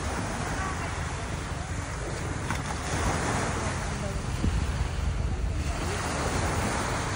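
Rough midday sea at Balicasag Island, a dense steady wash of surf and water rushing against a boat with buffeting wind on the microphone, loud and continuous.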